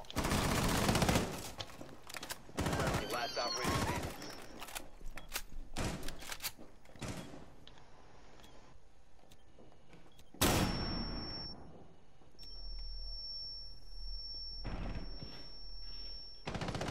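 Video game gunfire: dense bursts of close, loud shots, some automatic, over the first seven seconds. After a pause, a sharp blast and a high electronic tone follow, then one more burst.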